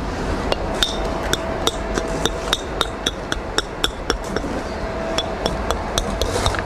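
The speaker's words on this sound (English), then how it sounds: "Can't beat a good brick hammer." A brick hammer knocks the back off a stone during stone wall building, giving a steady run of sharp, ringing metallic strikes in quick rhythm, loud and close, with no voices.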